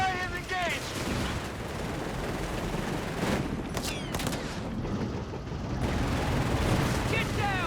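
BL 5.5 artillery fires in the Company of Heroes 3 strategy game, with sharp booms and crackling gunfire in a busy battle soundscape, heard under a commentator's talk.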